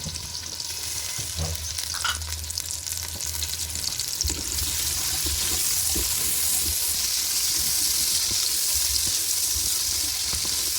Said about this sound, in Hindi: अब वो भिंडियों वाले ही ऑयल में हम प्याज डाल देते हैं।